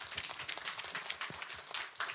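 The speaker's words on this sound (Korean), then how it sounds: "우리 청년들에게 격려의 박수 한번 해요" A church congregation at a Sunday service applauds its young adults, making a soft, continuous patter of many hands clapping at a distance.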